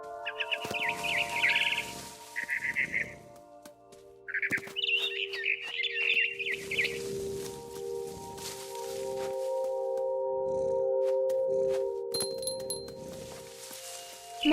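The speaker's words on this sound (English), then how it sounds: "Then I heard chirping outside my window. It was a barn swallow going back to her nest." A barn swallow chirps in the video game What Remains of Edith Finch, bursts of high twittering near the start over a soft ambient bed, with clinking sounds and scattered chirps later.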